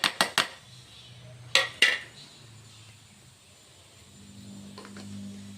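Palak rice being mixed with fried cashews and grated coconut, a handful of sharp metallic spoon clinks against a vessel early on, then quiet with a faint low hum.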